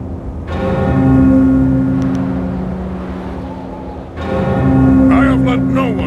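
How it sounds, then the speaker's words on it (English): A bell rings with a sustained, resonant harmonic tone, struck twice in succession, loud and close over a rumbling low background, in the video game Jade Empire. "Sky better have a good reason for ringing that bell."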